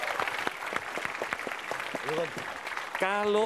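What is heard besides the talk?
audience applause for a stand-up comedian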